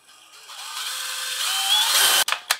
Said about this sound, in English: and then I drill through